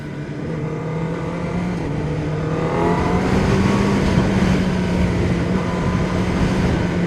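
A 2026 Kawasaki Ninja ZX-10R motorcycle accelerates hard, its engine note climbing steadily in pitch as the revs rise, loud and continuous with no voices over it.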